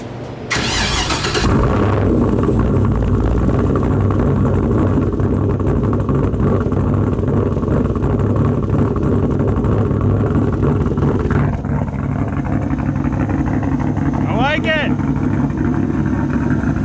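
An LS V8-swapped Mazda Miata fitted with a new turned-up exhaust tip fires up with a loud bark and settles into a heavy, rumbling idle, with a short rev partway through and people talking over it.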